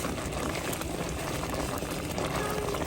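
Jam bubbles at a rolling boil in a pot during water bath canning, a steady, dense, soft crackle of popping bubbles that holds evenly throughout, with no voices.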